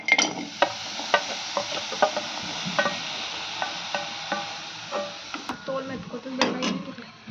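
A spoon scrapes and knocks rhythmically as jaggery is stirred into a pan of toasted sesame seeds for sesame laddu, with a soft frying hiss underneath and irregular sharp taps against the pan.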